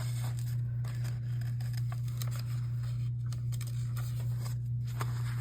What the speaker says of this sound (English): I suggest you use pretty detailed scissors